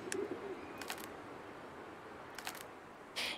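Soft dove calls in a hidden-object game scene, a few brief coos spaced apart over a faint steady background, fairly quiet and with no talking.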